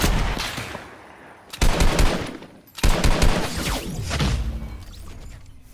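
Fortnite gunfire in bursts: a rapid rattling volley, a brief lull, then two more loud sustained bursts close by, tailing off into quieter shots.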